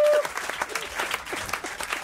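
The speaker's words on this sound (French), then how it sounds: "Moi, je pense que ça mérite un tonnerre d'applaudissements." A studio audience at a French television show breaks into a brief burst of applause, dense clapping that starts loud and stays steady for a couple of seconds, with a faint voice mixed in.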